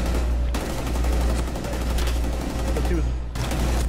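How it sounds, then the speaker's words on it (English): Gunfire in Rainbow Six Siege crackles in a rapid volley of loud close shots, with a sharp break partway through, under players' voices. "I just hit her with my shotgun"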